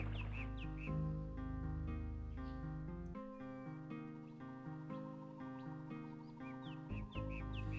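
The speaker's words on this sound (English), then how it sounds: "So the birds are part of the music." Video game music from Torin's Passage with bird chirps and tweets woven into a steady, melodic tune, birdsong sitting high above sustained tones throughout, no talking.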